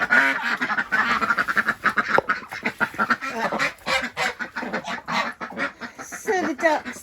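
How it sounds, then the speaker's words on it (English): Ducks in a pen quack loudly and continuously on a rainy morning, a dense, close chorus of overlapping harsh calls with no pause. "So the ducks, they are complaining."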